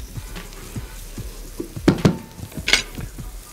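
Onion and minced garlic fry in a pan with a soft, steady sizzle, punctuated by a few louder scraping and clattering bursts as a spoon stirs them, heard close up.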